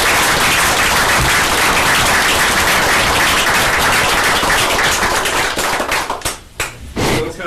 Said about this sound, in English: giving all 5 of these individuals, including the one who is present, a great big round of applause